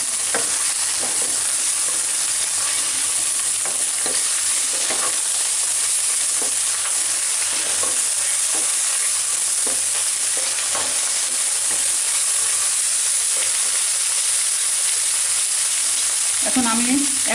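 Food fries in soybean oil in a pan, giving a loud, unbroken sizzle that runs throughout, with scattered soft taps and stirring clicks near at hand.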